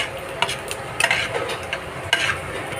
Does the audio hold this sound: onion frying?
yes